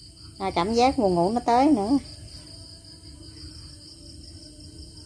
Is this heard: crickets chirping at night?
yes